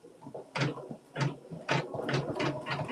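Domestic sewing machine stitching a seam along the raw edges of a printed fabric triangle for a rose garden quilt block, running in repeated short bursts with brief pauses between, moderately quiet and alone.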